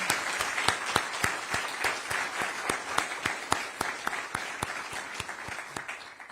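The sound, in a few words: audience applause at a commemoration event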